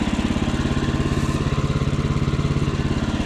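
A chainsaw engine runs steadily at a fast, even putter while cutting a 6x12 header beam at a new shop build, loud and close, with no talking over it.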